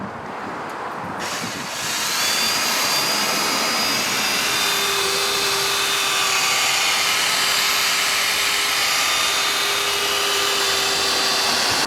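A machine polisher fitted with a 3-inch pad works over car headlights, giving a steady loud whirring hum that starts after a brief quiet moment and runs evenly and close for about ten seconds.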